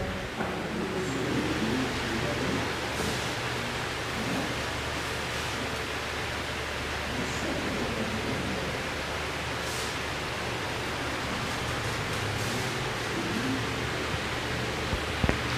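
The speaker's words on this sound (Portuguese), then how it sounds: "aqui é o barulho do ventilador aqui." An electric fan runs nearby, a steady broadband whooshing hiss with a low hum underneath, constant in level throughout, with no voices.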